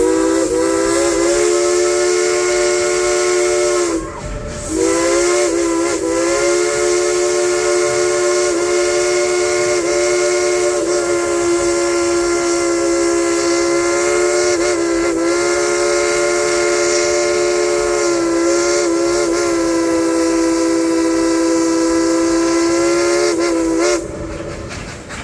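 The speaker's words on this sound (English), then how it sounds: "blow that whistle real loud" A coal-fired steam train's locomotive whistle blasts loud and sustained, a rich chord holding for many seconds with a brief break near the start.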